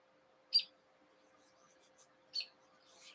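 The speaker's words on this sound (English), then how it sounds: "Do you hear the birds outside?" Birds outside an open window give a few short, faint chirps with long gaps between them, distant and quiet against a still indoor room.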